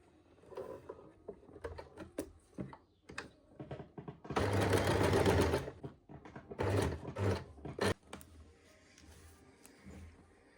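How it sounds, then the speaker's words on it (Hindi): A sewing machine stitches the neckline of a heavy double umbrella frock, with scattered clicks and handling taps around a sustained whirring run of stitching in the middle, then more short bursts. "अब हम यहाँ पर 1-1 पैर का मार्जिन रखते हुए सिलाई लगाएंगे।"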